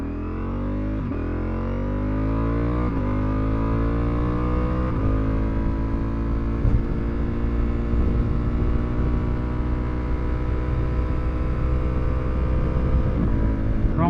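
A Ducati Multistrada V4S motorcycle rides through gusty wind in Las Vegas traffic, its engine note climbing loudly as it accelerates through several gears, with steady wind rush over the close, continuous drone.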